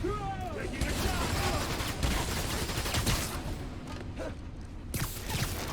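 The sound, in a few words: gunfire in the video game Marvel's Spider-Man: Miles Morales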